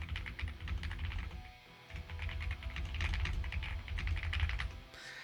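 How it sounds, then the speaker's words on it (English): Rapid clattering keystrokes on a computer keyboard, close and continuous, with a brief pause partway through. "If you can hear me typing"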